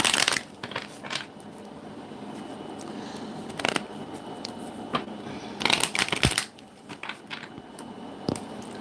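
Gemstone tarot cards are shuffled close to the microphone in repeated bursts of riffling and flicking, with quieter handling between and a final few card snaps.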